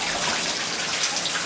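Water pours steadily down a waterfall ore chute deep in a mine, a continuous broadband rushing gush that stays loud and even throughout with no breaks.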